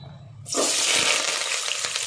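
Hot oil in a pan for chicken curry bursts into a loud, steady sizzle after a brief quieter moment, close and continuous with no talking.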